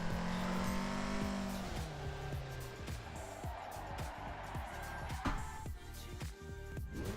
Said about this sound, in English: So we're now at Daytona in the 1987 Porsche 959.